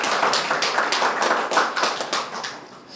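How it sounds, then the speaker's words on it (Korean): Church congregation clapping together at a Sunday worship service to welcome a visitor, a steady round of many hands applauding at moderate distance and easing off slightly toward the end. "우리 박수로 환영하겠습니다"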